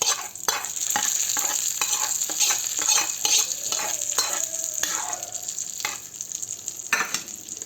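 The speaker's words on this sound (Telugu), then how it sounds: "పోపు అంతా కూడా చక్కగా వేగిపోయింది. దీన్ని మనం ఈ పచ్చడి మీద వేసేసుకుందాము." Fried tempering is poured over ridge gourd yogurt chutney, setting off a continuous loud hiss and crackle with spoon scrapes and taps against the pan, close up and with no voices.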